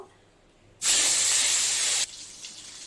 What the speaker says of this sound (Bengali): মাছটা আগে ভেজে নিই